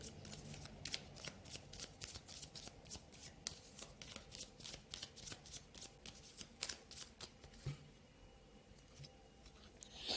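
Tarot cards being shuffled by hand, a quick, even run of crisp riffling flutters repeating close to the listener, quiet and steady for about ten seconds.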